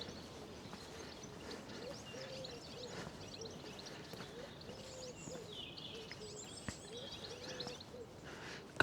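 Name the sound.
goldfinches singing in springtime courtship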